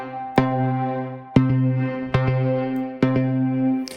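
A Cherry Audio P-10 Prophet software synth plays four sustained chords, each with a sharp attack, treated with chorus, flanger and reverb so the tones shimmer and ring out between strikes.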